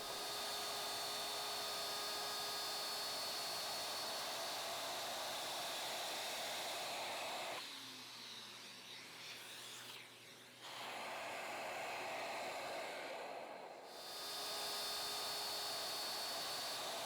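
Shaper Origin handheld CNC router cutting a box joint, a loud steady high whine that drops away for several seconds mid-way, then resumes at full strength.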